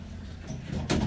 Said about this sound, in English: Closed door.